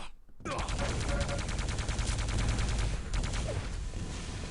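Rocket launcher fire in the arena shooter Quake, a dense barrage of rapid blasts and explosions that starts abruptly and carries on loudly for several seconds, with game sounds layered throughout.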